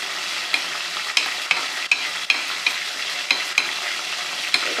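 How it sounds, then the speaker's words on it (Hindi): Plain yogurt being stirred into a paste of ground browned onion for a mash daal, with a spoon clicking and scraping against the bowl in a steady rhythm about every half second, close up and with no talking. "इसमें हम 3 से 4 खाने के चम्मच जो हैं वो दही शामिल करते हैं, और इसको अच्छे तरीके से हम मिला लेते हैं।"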